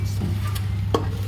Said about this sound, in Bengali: এখন আলুগুলো একটু ফ্রাই হবে